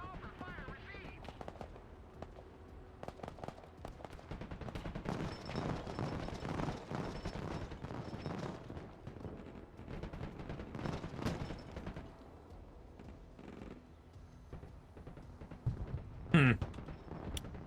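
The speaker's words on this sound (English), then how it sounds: "They're totally already unleashing another mortar barrage on me." Mortar barrage in the Broken Arrow video game, with repeated heavy thumps and blasts, then a sharp whistling sweep near the end, under radio voices and talk.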